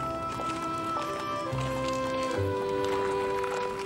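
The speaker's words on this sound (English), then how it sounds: "Lincoln's horse, Old Bob, is brought along to bid farewell to his mas" Horse hooves clip-clop in a steady march rhythm for a funeral procession in Springfield, Illinois, heard through a sustained musical score that carries over the footsteps.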